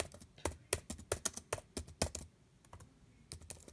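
Typing on a computer keyboard: a rapid run of crisp, close key clicks in an uneven rhythm, a short pause, then a few more keystrokes.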